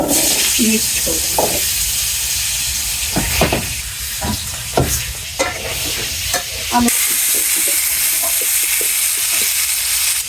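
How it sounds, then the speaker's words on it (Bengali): Potatoes frying in oil for a meat curry, a steady bright sizzle with intermittent stirring scrapes and clatter, up close, with occasional voices in the background. "মাংসের মধ্যে দেওয়ার জন্য যে আলুগুলা আলাদা এখন ভাজি করবো"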